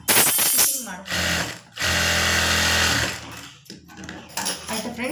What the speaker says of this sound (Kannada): ಅದನ್ನೇ ಸ್ವಲ್ಪ ಕಟ್ ಮಾಡ್ಕೊಂಡು ಈ ಥರ ಸ್ಟಿಚಿಂಗ್ ಮಾಡ್ಕೊಂಡು